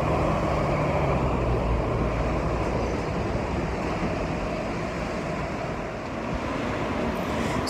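Steady wind rushes across a hot, busy street in Hong Kong near Prince Edward Road West, a continuous broadband roar with no speech.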